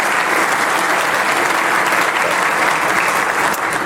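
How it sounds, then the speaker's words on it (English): Guests at a police awards luncheon in Burbank give honorees a round of applause, a loud, even, sustained roar of clapping from a large seated crowd, with no break. "let's give them a round of applause"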